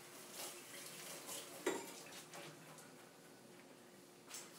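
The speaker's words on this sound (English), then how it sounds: "Rinse my hand off." Water runs from a kitchen tap as a hand is rinsed under it. It makes a faint, steady hiss with one small clatter partway through. No one speaks.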